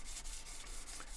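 A silver pendant being rubbed with 1200 grit sandpaper in one direction, making a close, steady, soft hiss of rhythmic strokes.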